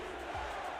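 A football stadium crowd roars in a steady, distant wash of cheering during a semifinal game, faint and continuous for under a second.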